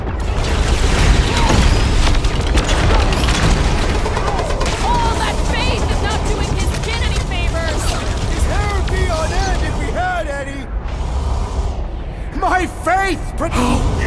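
A battle in the Guardians of the Galaxy video game is full of continuous weapon fire and booming impacts, a loud dense clamor running throughout. Character voices and chatter are heard over the combat.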